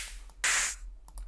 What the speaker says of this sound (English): That's some of the hi-hats.